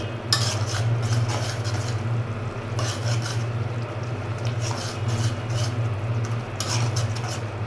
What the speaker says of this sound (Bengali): পানি দেওয়ার পর আমি আর একটু নেড়ে দিই।